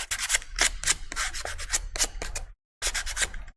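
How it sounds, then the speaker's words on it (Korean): Close-up sandpaper rasping on wood in quick back-and-forth strokes, a brief pause, then more rhythmic sanding. "저는 테두리 쪽으로 우선 전체적으로 다 사포를"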